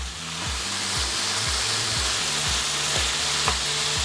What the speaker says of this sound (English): We'll stir that and let it keep cooking.